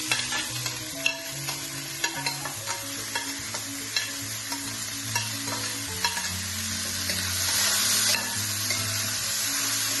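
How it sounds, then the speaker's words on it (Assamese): Chopped vegetables fry in a pan for a quinoa dish, a continuous close sizzle with a clacking, rhythmic spatula stirring that grows denser toward the end, with no talking. "এইখিনি অলপ ভাজি লওঁ কমকৈ।"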